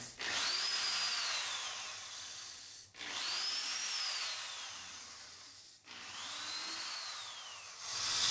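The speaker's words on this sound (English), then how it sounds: "pre-drill all these little holes." A power drill whines through three separate pre-drilled screw holes for a concrete countertop, each a sustained rising-and-falling run separated by short pauses, close and steady.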